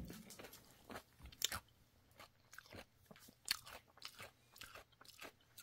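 Close, quiet crunching and chewing of a strawberry shortcake McFlurry with crunchy cake bits and vanilla, in irregular bites over several seconds with no talk.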